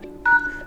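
A single short keypad dialing tone sounds as a code is entered on an ARCHOS Oxygen 57 smartphone dialer, clear and brief.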